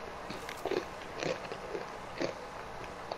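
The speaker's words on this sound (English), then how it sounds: "I'm trying not to chew so loud" Loud, crunchy chewing close to the mic, several bites in quick irregular bursts over a steady background hum.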